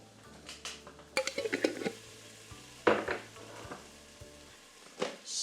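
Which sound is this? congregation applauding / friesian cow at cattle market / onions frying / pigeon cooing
onions frying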